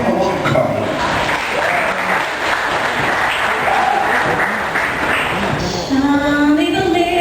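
An audience at a 2008 talent show applauds in a dense, steady wash of clapping that fills the room for several seconds. Voices and some music-like tones come through near the end.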